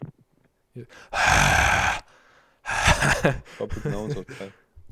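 Heavy breathing blown straight into a microphone, a loud rushing burst of about a second followed by further breathy gasps and puffs, close and harsh, with some vocal sounds mixed in.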